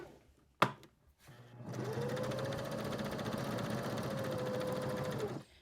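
A sewing machine top stitching along the folded edge of scrap fabric pieces for a small notebook cover, running in one steady continuous whir for several seconds after a brief click, close and prominent with no speech.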